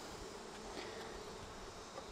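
Bees buzz in a dense, steady hum around an open beehive during a brood inspection, close and continuous but fairly quiet, with no talking.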